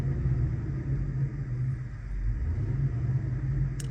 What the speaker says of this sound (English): So we got cylinder number 1 and cylinder number 2 misfiring.